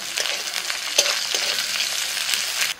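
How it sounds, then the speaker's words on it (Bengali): Chopped onion frying in hot mustard oil in a wok, a steady close crackling sizzle with a few sharper pops and light stirring, running continuously before cutting off abruptly near the end. "ফোড়ন হয়ে গেছে, দিচ্ছি পেঁয়াজ কুচি।"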